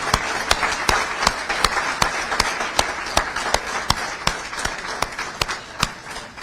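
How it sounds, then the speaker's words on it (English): An audience applauds finalists at a UNDP event, a dense wash of clapping with sharp individual claps standing out at a steady, roughly half-second rhythm, sustained and fairly loud throughout with no talk. "let's give them a hearty round of applause"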